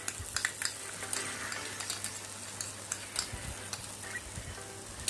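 Cashew paste frying in oil in a pan, a steady soft sizzle with light scraping and stirring clicks throughout, close but fairly quiet, no talking.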